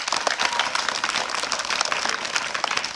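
Schoolchildren at a government school in Bihar clap together after a quiz competition, a dense, steady patter of applause from a group nearby that holds for the whole few seconds.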